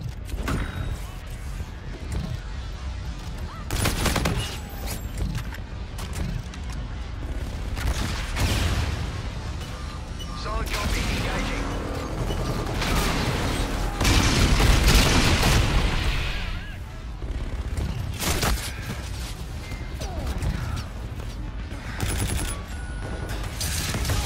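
Gunfire and explosions from Call of Duty Infinite Warfare fill the whole stretch, with dense rapid shots, booms and mechanical clatter layered continuously and loudly without a break.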